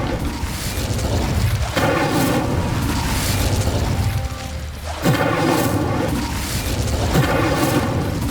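Fire spell cast in Hogwarts Legacy: loud continuous roaring, crackling bursts of magical flame sustained throughout, with a brief dip midway before the blast surges again.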